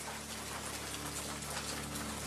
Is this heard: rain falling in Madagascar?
yes